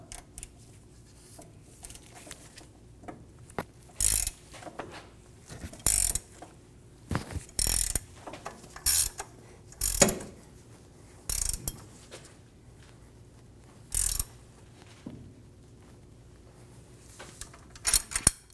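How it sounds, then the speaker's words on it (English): A 21mm wrench tightens the tie rod drag link nut on a Ram 2500 truck: short, separate bursts of ratcheting clicks come in irregular spurts, close and fairly quiet, with near silence between them. "Using a 21mm wrench, we're going to get over our nut."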